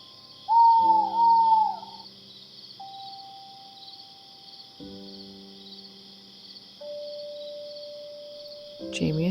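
A cartoon owl in a bedtime story for children hoots clearly and close, a wavering call near the start, followed by soft synthetic tones and a faint steady insect-like chirring behind.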